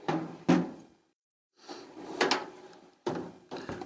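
A toolbox drawer slides and clunks, with several sharp knocks and rattles of metal tools in short bursts, a brief pause between them, close and fairly quiet.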